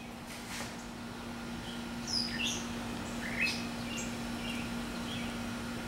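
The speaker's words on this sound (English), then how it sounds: "Again, you can hear the birds." Faint birds chirping in the distance in the early morning, a few short tweets and trills scattered over a quiet outdoor hum.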